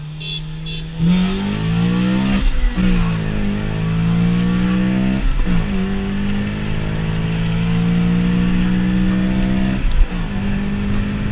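A Volkswagen MK7 GTI accelerates through the gears, its engine note climbing steadily and then dropping sharply at each of several shifts, heard loud and close from inside the car.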